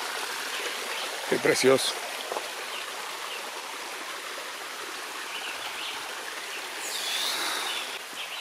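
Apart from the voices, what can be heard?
Río Seco river water flowing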